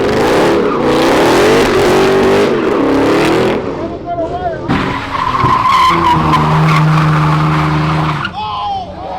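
A Dodge Scat Pack or Redeye car slides at a street takeover, loud engine revving with sustained tire squeal rising and falling close by, while spectators talk over it throughout.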